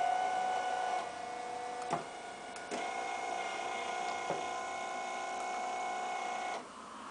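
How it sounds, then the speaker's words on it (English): Linear actuators driven by a control box extend with a faint, steady electric motor whine and hum, broken by a few soft clicks and ending with a drop as the motor stops. "if you hit the up button on either of the actuators, it'll fully extend"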